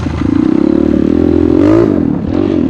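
A Kayo T2 motorcycle engine revs steadily in first gear, a loud close buzzing drone that rises in pitch toward the middle and then dips and climbs again, with no voices.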